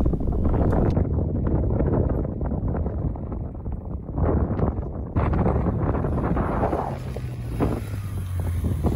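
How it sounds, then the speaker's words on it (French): Strong wind roars and buffets the microphone on the Col de l'Izoard mountain pass in the Alps, a steady heavy rumble that gusts and surges throughout with no talking. "Là aussi, nous sommes en plein vent."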